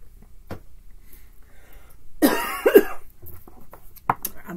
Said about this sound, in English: I'm about to have a coughing fit.